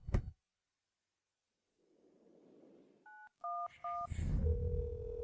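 A telephone keypad sends a quick series of dialing tones, several short beeps in a row, followed by a steady ringback tone against a quiet background.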